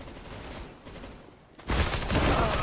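Gunfire in the CS:GO video game: quieter shots at first, then a sudden loud burst of rapid fire from about the halfway point that continues dense and close to the end.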